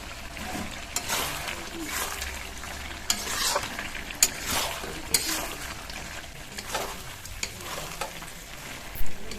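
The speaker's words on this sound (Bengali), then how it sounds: "আদা দেবার পরে মাংসটা কষিয়ে নিয়েছে দেখুন" Duck meat with ginger sizzles in a pan while a spatula stirs and scrapes it, giving irregular clattering strokes over a constant close frying hiss.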